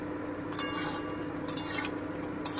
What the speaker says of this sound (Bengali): এবার আমি ঢাকাটা তুলে দেখে নিচ্ছি